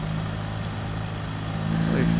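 A 2024 BMW R1300 GS motorcycle engine hums steadily while riding on a winding road, swelling slightly as power comes back on, with a rider speaking over it.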